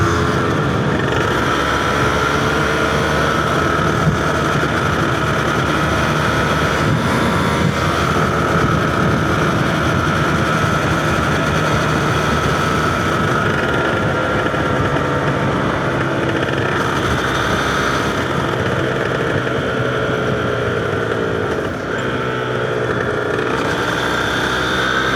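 Yamaha TZR 250R two-stroke motorcycle engine drones steadily while riding, loud and close, with pitch shifting gradually as revs rise and fall, plus constant wind buffeting and no talking.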